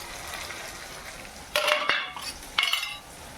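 Spices fry and get stirred in a pan for a meat curry, with faint sizzling underneath and two sharp bursts of scraping and clattering from a utensil against the pan.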